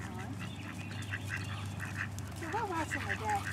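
Several ducks quack nearby in scattered bursts, with a low background hum and voices faintly mixed in.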